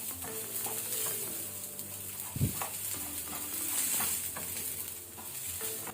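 Squid sizzles steadily in a pan over a low flame. The frying stays soft and even, with a brief thump or stir partway through.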